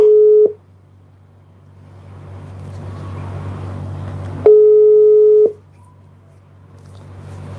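Telephone busy signal heard while placing a call, two steady electronic tones at the start and again mid-clip, each lasting about half a second to a second, with low background hum and faint room noise between them.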